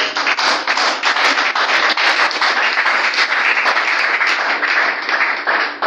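A church congregation claps and applauds together, a dense, steady wash of many hands that stays loud and even for several seconds without any voices.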